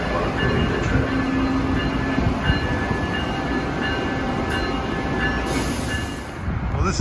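An ACS-64 electric locomotive, number 608, rumbles past with a train on a New Jersey line, a steady close rail roar with faint wheel squeal and clatter holding throughout.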